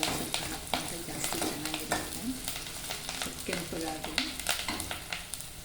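Steady, dense sizzling of curry leaves and garlic frying in hot oil, with occasional clinks and scrapes of a spoon stirring the pan throughout.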